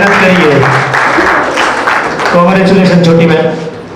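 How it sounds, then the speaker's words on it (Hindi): Applause from an audience at a student award function, a sustained wash of clapping under a speaking voice, fading toward the end. "तालियां भी।"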